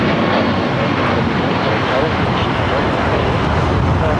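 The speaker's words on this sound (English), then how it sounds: "Turkish Flight 180 heading back to Istanbul at 777-300ER, heading here to the south side." Turkish Airlines Boeing 777-300ER jet departing LAX for Istanbul, a loud, dense continuous engine roar very close, with a voice faintly mixed in beneath it.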